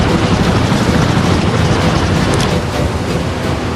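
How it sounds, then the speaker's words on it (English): A helicopter in the naval video game Warships Mobile 2 produces a loud, constant rotor and engine roar with a windy, rushing texture, steady throughout and alone. "Helicopter, ready for orders."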